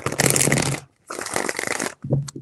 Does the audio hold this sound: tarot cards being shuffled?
yes